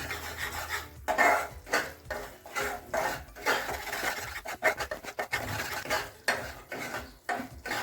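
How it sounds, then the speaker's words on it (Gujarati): Flour roasts in ghee for sukhdi while a utensil scrapes and stirs it in the pan, loud repeated rasping strokes in an uneven rhythm with short gaps, close up and without voices. "તો હવે લોટ શેકાવા માંડ્યો છે"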